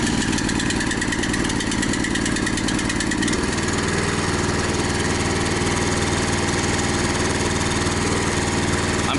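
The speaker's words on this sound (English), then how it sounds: "So to start this up" A Honda HSS1332ATD track-drive snowblower engine cranks over with the choke on and catches after about three seconds, settling into a loud, steady close-range running drone with no talk.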